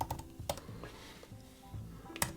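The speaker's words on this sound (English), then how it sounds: "I can start typing." Typing on a computer keyboard while formatting pages in Notion, a few quick, light key clicks spread irregularly across a short quiet stretch.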